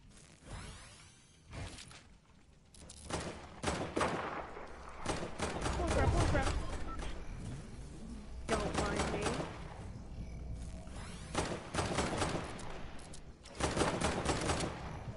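Shotgun blasts in a video game ring out as repeated sharp bursts, several in quick clusters with gaps between, mixed with other game effects and a voice talking at times.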